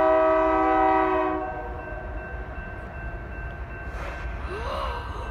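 BNSF executive train passing close by, a loud sustained multi-tone horn blast at first that cuts off, followed by steady rumble of the passing cars and a brief voice exclamation near the end.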